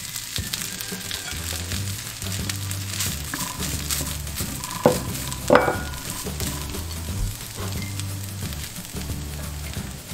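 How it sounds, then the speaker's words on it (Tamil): Mashed potatoes stirred in a hot pan over medium heat, a steady scraping and soft sizzle running throughout, with a couple of sharper knocks of the utensil against the pan near the middle. "இப்போ வந்து உருளைக்கிழங்கு சேர்த்துடலாம்"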